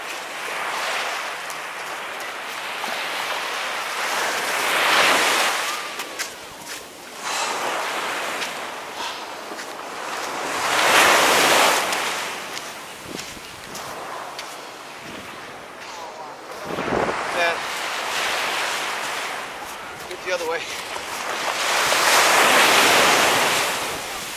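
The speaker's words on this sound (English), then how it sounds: "don't turn your back on the ocean, man. We got hammered." Ocean waves crash on the shore in repeated loud surges a few seconds apart, with heavy wind buffeting the microphone and constant surf roar in between, with no talking.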